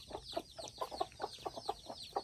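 Hen with chicks in a village, a run of short repeated clucks at an even rhythm, close and moderately loud, with faint chick peeps high above them and no talking.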